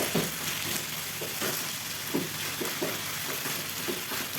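Thin chicken pieces sizzle and fry steadily in a hot pan, with the dull scrape of a spatula turning them at intervals under the constant hiss.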